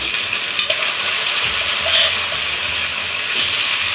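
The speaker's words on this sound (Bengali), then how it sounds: "এবার এইগুলো যে সেদ্ধ করেছিলাম এটা ছেঁকে করে এইটা আমি কড়ার মধ্যে দিয়ে দিচ্ছি।" Boiled mutton pieces go into a hot kadai and sizzle loudly and steadily, with faint clinks and scrapes under the continuous frying hiss.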